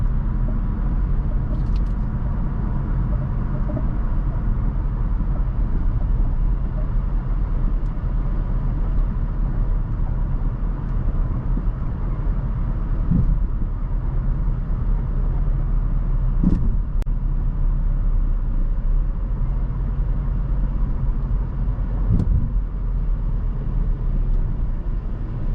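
A 2018 Mazda 3 Grand Touring with a smooth-shifting automatic drives steadily, its engine and road noise forming a continuous low rumble from inside the cabin, with a few faint clicks and no voices.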